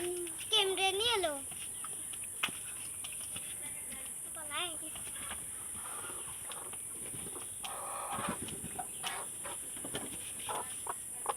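Farmyard chickens, once small chicks and now grown and laying eggs, give a few clear clucks and calls near the start, then quieter background activity continues.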